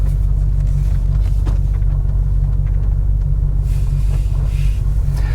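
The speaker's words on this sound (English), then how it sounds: "I'm just going to take you around this car park very slowly because we've got low air in that tyre." A supercharged Range Rover with a low-pressure tyre creeps slowly around a car park, its engine a steady, loud low rumble heard from inside the car, with faint background noise.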